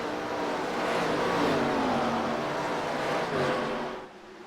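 Race cars at Rockingham speedway roar past in lap traffic, a loud sustained engine drone with pitch sliding downward as they go by, fading sharply near the end.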